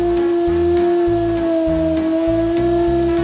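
A wolf howls in a long, sustained, steady tone that holds at one pitch for over three seconds, loud and alone over a rhythmic low background beat.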